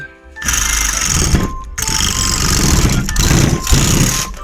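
Loud, close bursts of a Parkside reciprocating saw cutting a zigzag line, its rapid rattling buzz briefly broken by short pauses as the blade changes direction.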